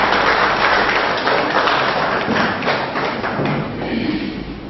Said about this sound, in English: it is right and proper for us to give ourselves a round of applause